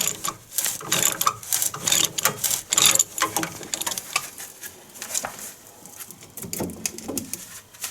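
Metallic ratcheting clicks and scrapes as a 15mm combination wrench works a strut top nut on a 2014 Sierra or Silverado front coilover, the wrench braced against the steering knuckle; busy, irregular close-up tool noise.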